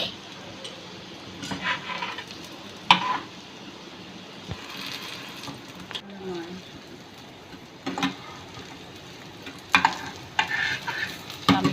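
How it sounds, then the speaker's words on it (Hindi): Beef shami kababs fry in a pan with a steady low sizzle, punctuated by several clinks and scrapes as they are turned, close by, with someone talking at times. "शामी कबाब बहुत अच्छे से दोनों साइड से फ्राई हो चुके हैं"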